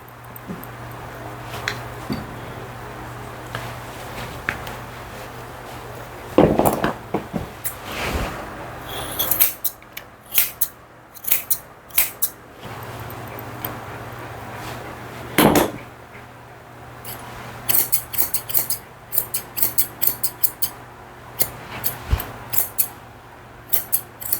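Grooming scissors trimming a Maltese mix dog's hair: quick, soft snips and clicks in irregular bursts, close by over a low steady hum, with occasional louder handling bumps.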